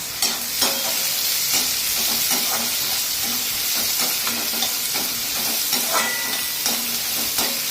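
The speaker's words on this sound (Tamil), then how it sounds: "இதோ ஜீரா பொரிஞ்சாச்சு அடுத்தது வெங்காயம் இதை வந்து நல்லா வதங்கணும்" Onions sauté in a hot oiled pan with cumin seeds, a continuous close sizzle broken by regular scraping stirs of a spatula roughly every half second.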